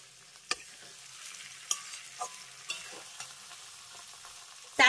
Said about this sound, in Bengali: এবার গ্যাসের ফ্লেমটা একেবারে লোয়ে রেখে আমি ডিম আর বেগুনটাকে 2 মিনিটের মতো এইভাবে একটু কড়াইতে রেখে দেবো।